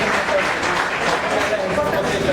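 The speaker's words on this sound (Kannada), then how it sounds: "ನಿಮ್ಮೆಲ್ಲರ ಜೋರಾದ ಚಪ್ಪಾಳೆಯೊಂದಿಗೆ ಸ್ವಾಗತವನ್ನು ಕೋರುತ್ತೇವೆ" An audience at a Basava philosophy council monthly program claps steadily to welcome a guest to the stage, a sustained even patter of many hands throughout the brief clip.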